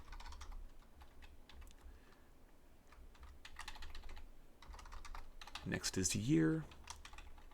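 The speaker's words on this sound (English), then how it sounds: "If I can type here, mileage." Rapid, uneven keystrokes on a computer keyboard while Java code for a car's model, color and mileage fields is entered, steady and close throughout, with a voice speaking briefly near the end.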